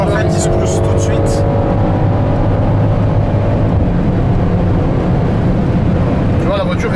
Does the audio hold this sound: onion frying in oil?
no